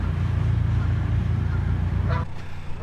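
A goose gives a short honking call over a steady low rumble of water or machinery, brief and fairly close, beside a canal lock where a family of geese is present.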